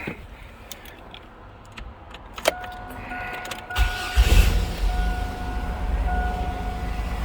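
A Chevrolet Astro van's engine cranks briefly and catches, then settles into a steady idle, preceded by clicks and a whining electrical hum inside the vehicle.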